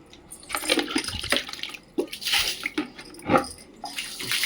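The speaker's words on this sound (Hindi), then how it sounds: "थोड़ा पानी बचा तो गिरा दिए।" Leftover water poured out from a vessel onto plants at home, splashing and pattering in several uneven bursts, fairly close, with no talk.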